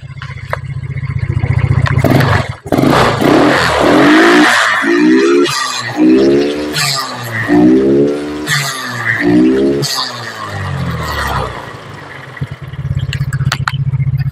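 An engine is revved repeatedly, close and loud, rising to high RPM in several surging pulls between stretches of rough idle, with no talk over it.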